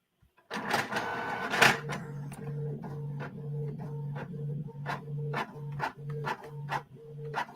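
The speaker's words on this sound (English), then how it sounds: "Got to turn on the printer." A printer running through a page: a steady mechanical whir with a low hum and evenly repeated clicking strokes, close and fairly loud, with no talking.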